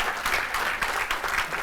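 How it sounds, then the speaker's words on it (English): An audience at a music master class with a film music director, held during the Chennai International Film Festival, claps in dense, steady applause that fills the room without a break. "please give a big round of applause to our master"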